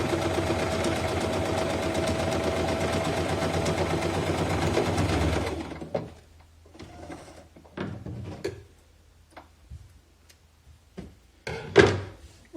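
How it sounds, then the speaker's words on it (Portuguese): A sewing machine runs steadily for about six seconds while stitching fabric for a coin purse, then stops, and a few soft knocks and handling sounds follow. "quando eu fiz essa costurinha aqui, então eu já uni ele na peça principal"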